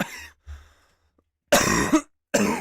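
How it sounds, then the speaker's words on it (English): Several harsh coughs: two quick ones, a pause, then two louder, raspy bursts close to the microphone. "it hurts to cough"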